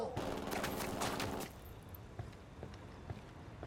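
Ghost Recon Wildlands gunfire plays as a dense, loud rattle of rapid shots for about a second and a half, then drops to scattered faint pops and thuds over a low background.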